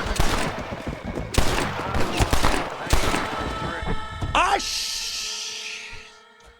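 Gunfire from Red Dead Redemption bursts in a rapid, loud fusillade of shots aimed at a rope, crowded under excited talk and game noise before trailing into a sustained ringing tone.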